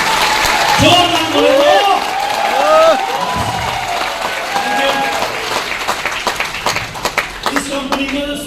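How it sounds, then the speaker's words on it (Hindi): An audience at a company success seminar claps loudly, the applause rising and then breaking into scattered claps, while someone shouts encouragement over it. "एक बार जोरदार ताली होनी चाहिए।"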